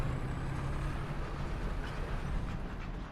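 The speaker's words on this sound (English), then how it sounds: "I think I hear a tank." Low, steady engine rumble of a tank in War Thunder, a continuous droning growl that holds at an even loudness throughout with no talk over it.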